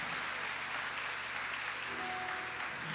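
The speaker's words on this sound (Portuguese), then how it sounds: "Vamos aplaudir a Deus por isso" Congregation applauding during a church gathering, a continuous, even roar of clapping from a large crowd, heard at a distance, with a faint tonal hum beneath.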